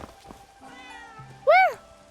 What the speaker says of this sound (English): Guys, I heard a cat.